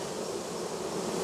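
A dense, steady buzz of many honey bees at the hive fills the air up close, unbroken and even, with no voices.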